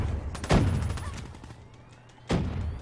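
Gunfire in the Call of Duty: Black Ops 3 video game, a burst of rapid shots followed by a heavy single blast, close and loud.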